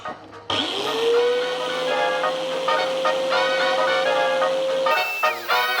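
An Expert angle grinder runs at full speed, a steady high whine that spins up sharply, holds constant for several seconds and then cuts off near the end.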